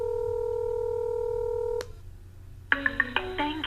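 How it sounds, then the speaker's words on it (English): A telephone dials a web hosting support line: a steady two-tone dial tone sounds for about two seconds, then a short pause, followed by a quick run of distinct touch-tone keypad beeps, each clear and close. "Now, let's try out their phone support. So I'm going to dial right now, and we'll see what happens."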